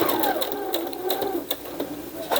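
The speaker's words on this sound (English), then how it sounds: "So I'm just going to run around the border with a round the world straight stitch." A sewing machine runs a straight stitch around a fabric pocket border, a close, rapid mechanical whir with short pauses while a person talks over it.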